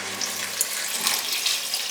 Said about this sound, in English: In with my vegetable stock